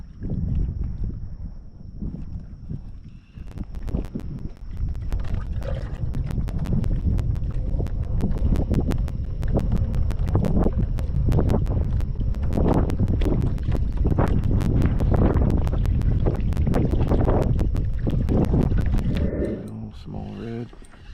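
Strong wind buffets a fishing boat out on the water on a very windy day, a steady loud roar with rattling gusts and knocking thuds, and voices talking over it throughout.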